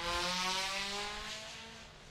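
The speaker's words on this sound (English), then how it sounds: "I heard a car re-enter the racetrack" A race car at a GRIDLIFE Midwest track event, with GLTC, time attack and drift cars, rejoining the circuit, heard faint and distant as a steady engine drone with rising tones that slowly fades.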